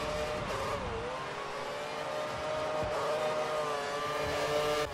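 Formula 1 race cars in a racing video game, a continuous high engine whine with pitch sweeps as cars pass and shift, dense and steady at moderate loudness, with no voices.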